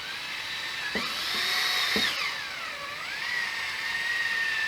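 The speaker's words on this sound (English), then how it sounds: "Kind of difficult to control my speed with this drill." Handheld power drill spinning polishing compound onto a car headlight, a high whining motor whose pitch rises and dips as speed changes, with a few short clicks near the start.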